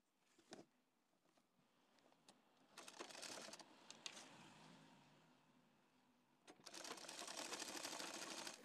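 A sewing machine stitches piping along the back neck of a kurti, running in short bursts with brief pauses, close and fairly quiet, with a longer steady run near the end.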